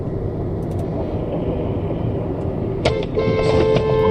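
A car driving, as heard on dash cam footage: a steady low road rumble and engine drone, joined near the end by brief higher tonal sounds.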